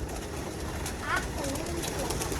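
Pigeons released from their loft coo softly as they fly about on a hot evening, the calls faint and brief against steady outdoor background with a voice in the distance.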